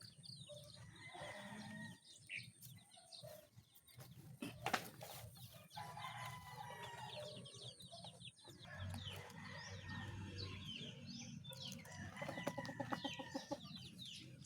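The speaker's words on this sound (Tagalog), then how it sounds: "pinakawalan ulit natin yung ating mga alagang manok" Chickens cluck and chatter around a farmyard, with a low lowing animal and steady outdoor background noise throughout.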